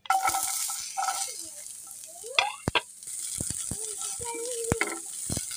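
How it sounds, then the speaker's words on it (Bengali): Onion and garlic fry in a pan with a continuous soft sizzle, broken by sharp clinks and rattles of stirring and a few short chirping calls nearby. "পেঁয়াজ এবং রসুন ভেজে নেব।"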